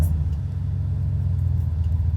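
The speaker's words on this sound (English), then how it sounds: "So excuse this truck noise if y'all hear the truck noise" A truck engine idles nearby as a steady, low rumble with a faint, even pulse, continuous and moderately loud throughout.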